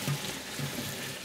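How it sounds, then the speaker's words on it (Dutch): Cold water runs from a kitchen tap over green beans sitting in a sieve, making a steady, close hiss of flowing and splashing water with no voices. "En ik spoel ze ook meteen koud onder de kraan."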